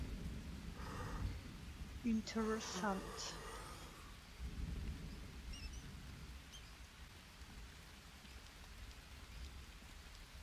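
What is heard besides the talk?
rain and thunder outside in video game Green Hell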